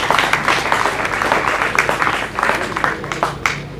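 Audience applause at a speech by the presiding High Court judge in Shinyanga, a steady wash of many hands clapping for nearly four seconds at fairly even loudness, with no voices over it.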